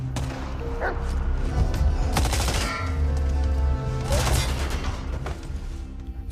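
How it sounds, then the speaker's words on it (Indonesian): Gunfire erupts in a film shootout between a soldier and disguised SS troops, with bursts of shots spread across the scene over a dense, loud background of other action sounds. "Baku tembak pun terjadi."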